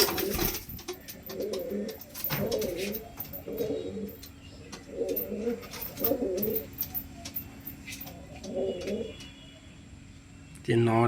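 Pigeons, including a red-necked (lalshira) hen, cooing close by in repeated low rolling phrases, about eight bursts over the stretch, with a brief loud clatter at the end.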